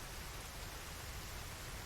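Rain falling in an anime episode, a dense, even hiss of steady downpour with no breaks, faint and continuous, no voices.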